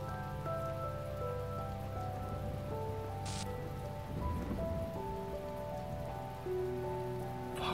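Rain falling in the video game The Talos Principle (2014, PS4), a steady patter on surfaces, with low sustained musical tones underneath and no speech.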